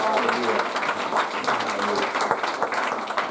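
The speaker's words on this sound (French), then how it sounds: "Moi, j'applaudis ses parents." Congregation applause during a church service presenting two young children to God, a steady wash of clapping running for several seconds beneath a speaker's voice.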